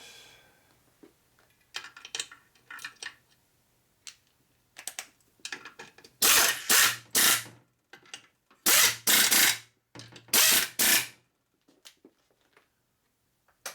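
A ratchet with a 12-point socket torques case bolts on a rebuilt Harley Sportster 650 single land-speed racer: scattered light clicks, then several loud, harsh bursts of mechanical noise close up.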